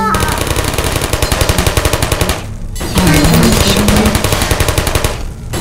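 Rapid automatic turret gunfire in a live fire test chamber of a video game, loud and close, in long continuous bursts broken by a short lull before resuming.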